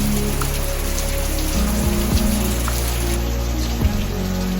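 Rain falls steadily outdoors in a dense, even hiss of drops on surfaces, with a low hum running underneath and no one talking.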